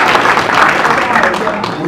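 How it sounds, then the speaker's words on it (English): A crowd applauds steadily at a debate competition, a dense wash of clapping with a voice talking faintly underneath. "Please clap for them."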